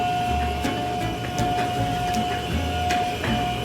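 A book trimming machine runs at a bookmaking press, giving a steady mechanical hum with a sustained whine and faint rhythmic clicks, close and continuous throughout.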